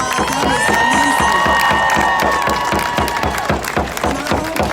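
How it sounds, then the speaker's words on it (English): Rally crowd at a solidarity rally for justice in Minneapolis applauding and cheering, loud dense clapping with rising whoops and shouts, sustained and close throughout. "Let's give these ladies another round of applause."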